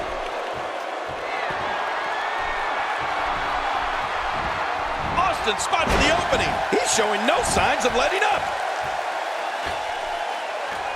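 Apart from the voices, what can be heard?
video game wrestling crowd cheering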